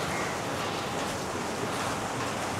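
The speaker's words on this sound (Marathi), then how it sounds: "आणि हा समोर अथांग समुद्र" Sea waves at Gorai Beach in Mumbai make a dense, continuous roar of surf that stays loud and even throughout, with some wind noise against the microphone and no voices.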